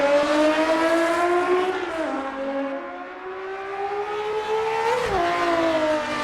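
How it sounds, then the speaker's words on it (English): A BMW M1 sports car engine howls loudly on a race track, a sustained high-pitched wail that drops briefly as gears shift and then climbs again, with no voices. "The roar of the M1 fills the air with fury"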